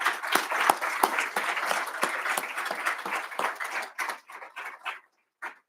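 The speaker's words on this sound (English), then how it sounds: "Let's give our honorees one more round of applause," A round of audience applause for honorees at a military awards ceremony rises in dense, steady clapping, then thins into scattered individual claps and dies out near the end.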